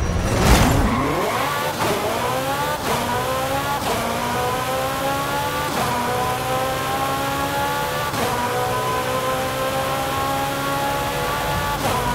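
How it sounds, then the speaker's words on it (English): A 2015 Ferrari 488 GTB revs repeatedly in Forza Horizon 5, each burst climbing in pitch through the gears with sharp shift breaks, loud and continuous. "2015 Ferrari 488 GTB."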